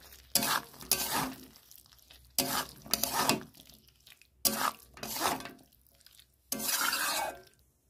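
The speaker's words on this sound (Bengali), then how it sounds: "নেড়ে একটু কষে নেব।" Paneer being stirred and sautéed in a pan: four or five distinct bursts of scraping and sizzling, each about a second long, with quieter gaps between them, close and moderately loud.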